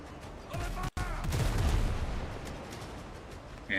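Ship cannons firing during a naval battle in the video game Windrose, a dense rolling barrage of booming shots with a sharp crack near the start, loud and continuous, with a brief voice underneath.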